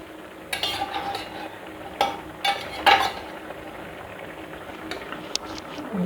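Fish curry with mustard paste and fried fish simmers and bubbles in a pot, a soft steady bubbling punctuated by a few clinks and scrapes of a utensil against the pot.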